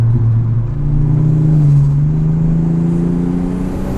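A car engine pulls steadily under light throttle, its low drone holding loud and close with a slowly rising pitch and an even, continuous rumble throughout, no voices.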